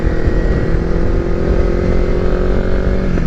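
Kawasaki Versys motorcycle cruising on a road in rural Victoria, Australia, its steady engine drone mixed with heavy wind rush, loud and continuous throughout with no talking.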